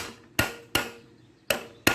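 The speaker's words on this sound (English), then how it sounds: "I'm going to take this hammer. I'm going to break these loose." A hammer taps valve spring retainers on a 5.3 LS cylinder head to knock the locks loose, with four sharp, close metallic strikes at uneven intervals and quiet gaps between them.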